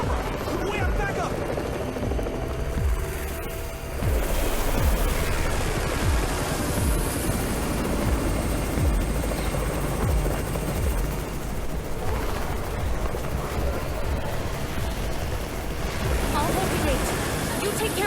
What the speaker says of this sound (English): It's Raven's chopper! We have backup!